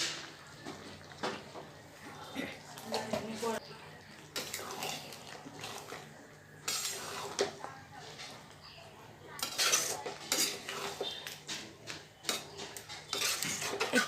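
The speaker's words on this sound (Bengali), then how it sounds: "একটু নাড়াচাড়া করে নামিয়ে নিব।" Young jackfruit kalia curry with garam masala, roasted cumin powder and ghee is stirred in a metal pot, making close, intermittent scraping and clinking of a spoon against the pan along with wet, sloshing sounds.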